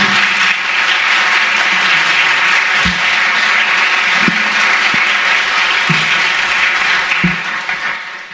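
Sustained audience applause fills a school board meeting room, steady and loud for several seconds with a few scattered sharper claps and whoops, tapering off at the end; no speech over it.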